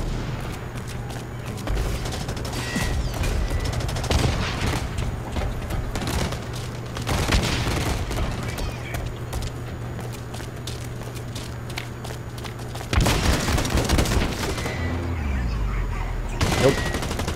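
Rifle fire in the shooter video game BlackLight, with repeated bursts of gunshots over a steady game soundtrack and footstep-like thuds, loud and close, a heavier burst near the end.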